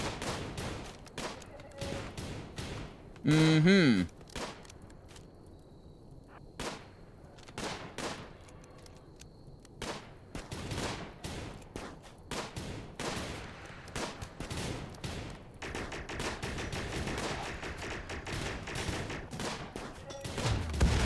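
Scattered sharp gunshots and bursts of automatic gunfire in a Rimworld video game battle, irregular cracks through a constant background bed, with a brief rising synthetic whine partway through.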